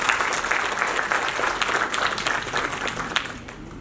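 An audience applauds a panelist being introduced at an Oxford-style debate at the India International Arbitration Centre, dense crisp clapping from many hands that tapers slightly toward the end, with no talk.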